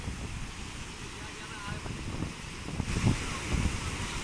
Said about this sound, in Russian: Индийский океан. Как видите, здесь высокие достаточно волны.